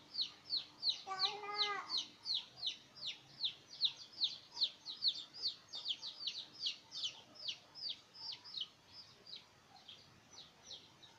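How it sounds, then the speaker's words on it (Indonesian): Chickens give a rapid, rhythmic run of short high peeps, with one lower clucking call early on, all fairly faint and close with little else around. "Tunggu ayam bilang."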